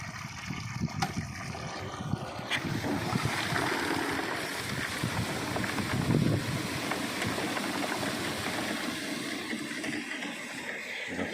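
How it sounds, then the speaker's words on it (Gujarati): An electric motor pumps waste decomposer liquid onto jujube (bor) trees, making a continuous rushing, watery churn with a steady broadband hum that holds for the whole stretch. "આપણે કરી મોટર ચાલુ."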